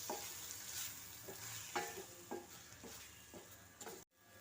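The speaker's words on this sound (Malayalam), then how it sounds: "ഇനി നമുക്കതൊന്ന് ഇളക്കി കൊടുക്കാം" Tomato curry with a roasted coconut paste is stirred in a pan: a soft bubbling sizzle under regular scraping strokes about every half second, quiet and close, cutting to silence near the end.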